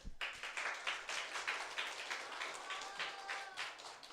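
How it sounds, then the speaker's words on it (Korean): Applause from a church children's department audience at a Cambodia mission forum: a few seconds of light, scattered hand clapping, fairly faint and steady, with rhythmic peaks as the clapping continues. "박수를 크게 쳐주지 왜?"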